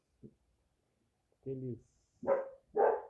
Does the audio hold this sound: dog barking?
yes